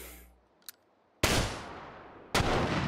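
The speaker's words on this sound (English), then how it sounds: "Well, yep, flashbang." Flashbang grenade rounds going off in the VR shooter Hot Dogs, Horseshoes & Hand Grenades: a faint tick, then two sudden loud broadband blasts about a second apart, each leaving a long hissing, ringing decay.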